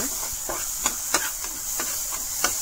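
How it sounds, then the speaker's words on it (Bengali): Pumpkin seeds fry and sizzle in a pan under a steady hiss while a utensil stirs them in regular scraping strokes, each about every third of a second, close and moderately loud. "এটাকে মিশিয়ে এখন লড়াচড়া করিয়া ওরকম অনবরত লড়াচড়া করবা।"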